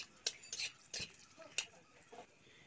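A spoon scrapes and clinks against a pan while bay leaves and dried red chillies are stirred in hot oil, making a few sharp taps over a faint, low sizzle.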